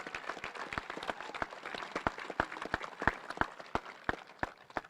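Sparse, individual claps from a small crowd at a class of 2021 high school graduation ceremony, distinct sharp hand claps in an irregular patter, fairly faint and distant.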